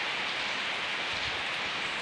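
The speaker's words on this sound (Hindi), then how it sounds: "बहुत तेज़ बारिश शुरू हो गई है," Heavy rain pours steadily outdoors at a home in Peshawar, a dense, even hiss with no other sounds over it.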